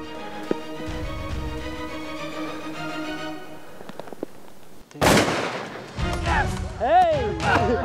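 A rifle shot rings out during a Sierra Nevada ibex hunt in southeastern Spain, a sudden loud broadband blast at about five seconds after quiet outdoor ambience, followed by excited shouting and cheering nearby.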